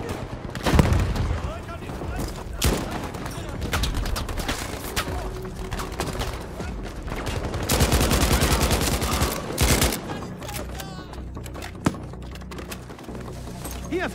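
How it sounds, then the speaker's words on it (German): Battlefield V battle with a grenade explosion amid heavy gunfire: sustained automatic bursts, booming blasts and scattered shots, loud and dense, with voices shouting under the din. "Ich werfe eine Granate!"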